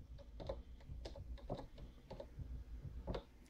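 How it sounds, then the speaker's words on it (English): Rapid keystrokes on a computer keyboard while entering a search in Windows 10, a steady run of close, crisp clicks with a few louder taps standing out, no voice over it. "type in Skype."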